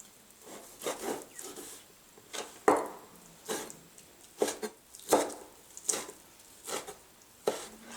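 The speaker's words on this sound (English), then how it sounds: "while we're cutting these meats, we're just going to place them in that bowl there" A knife chops pork and other meats on a cutting board for marubini, about a dozen sharp, distinct chops at an uneven rhythm, close and fairly quiet with no talking.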